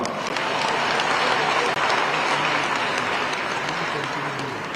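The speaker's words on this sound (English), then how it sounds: "If it's a good thing, clap." A large gathering claps loudly and continuously at the opening ceremony of a new cathedral, the applause a dense, even wash of hands that holds steady before easing slightly at the end.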